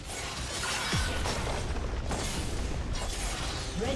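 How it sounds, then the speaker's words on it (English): Turret destruction in League of Legends, a Fiora versus Teemo top-lane match: a low boom with crumbling bursts under steady game noise, followed by further thuds and rumbling debris, with no one speaking. "Red team's turret has been destroyed."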